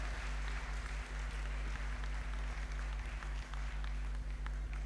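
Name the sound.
audience applause in honour of Mohan ji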